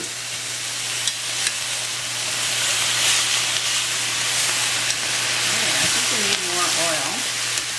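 Rapini sautés and steams in a pan with a continuous, even sizzle and hiss, a few faint clinks and stirring scrapes, and a brief voice near the end.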